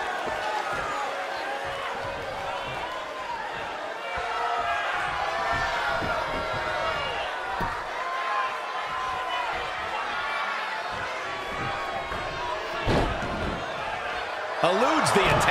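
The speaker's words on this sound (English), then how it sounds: "What a raucous crowd here tonight." A raucous crowd at a New Japan Pro-Wrestling match roars and cheers continuously throughout, with thuds and slams from the ring breaking through and an excited commentator talking over the noise.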